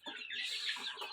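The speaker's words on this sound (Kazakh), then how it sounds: "инкубатордан екінші рет шығарған балапандарым" Incubator-hatched chicks in a new poultry shed, a brood of about 57, peeping in quick, high, overlapping chirps at close range, fairly faint and continuous with no talking.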